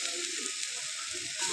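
Onion bhaji batter drops into hot oil in a kadai and sizzles loudly, a dense, even hiss that holds steady throughout with no talking.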